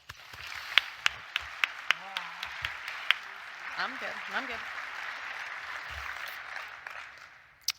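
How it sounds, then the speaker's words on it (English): Scattered applause from an award ceremony audience at a sports medicine annual meeting, with sharp individual claps over a soft crowd wash and brief talk mixed in. "big round of applause"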